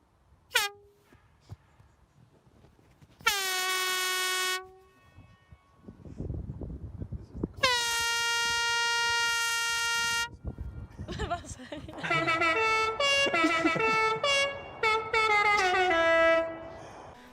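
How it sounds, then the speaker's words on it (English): Musical car horns recorded for Forza Horizon 4 blare in loud tonal bursts, some long sustained blasts and later a faster run of shifting pitched honks, with voices and background noise between the blasts. "went back to the studio and made all of these musical car horns"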